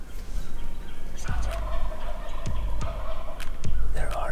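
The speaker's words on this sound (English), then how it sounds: "Turkeys gobbling out in front of us." Wild turkeys gobbling out in front of a hunting blind, several loud rattling gobbles spaced about a second apart over a steady outdoor background.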